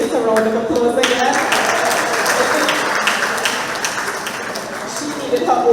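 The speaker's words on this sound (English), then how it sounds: "A round of applause again." An audience claps throughout at a monthly meeting of a retired persons' association in a community hall, a dense, sustained round of applause with a voice speaking over it near the end.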